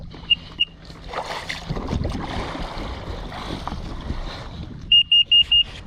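Sea-Doo XP-DI personal watercraft engine running out of the water, a raspy, rumbling idle close by with a few sharp electronic beeps at the start and end.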